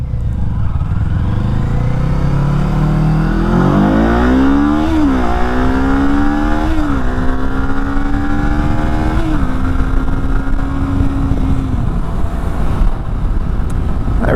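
Kawasaki Eliminator 500 motorcycle carrying two riders, its engine loud and close, climbing in pitch through several gear changes, then easing off near the end, with wind noise throughout.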